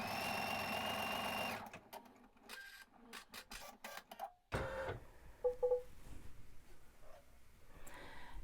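An embroidery machine stitches on sheer fabric, a steady loud mechanical rattle for the first seconds that then stops, followed by intermittent clicks, thuds and light handling noises.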